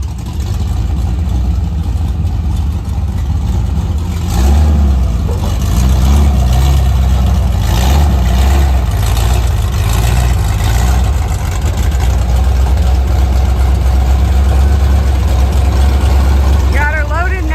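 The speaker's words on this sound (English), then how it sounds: "Davey's getting Clyde still turned around so we can get loaded on the trailer" An old short-bed truck engine rumbles loudly at low speed while being turned around to load onto a trailer, a steady close drone that swells and eases, with a brief higher whine near the end.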